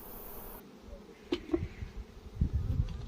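Honey bees buzz faintly around an open hive during a colony inspection, with a soft steady drone, a few brief knocks and handling noises, and no talking.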